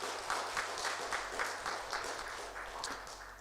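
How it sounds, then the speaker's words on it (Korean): Church congregation applauding together during a Sunday worship service, a steady crackle of many hands clapping that fills the hall at moderate level without a clear beginning or end. "이 시간에 우리 그분들에 대한 감사의 마음, 격려의 마음을 담아서 박수 한번 하겠습니다"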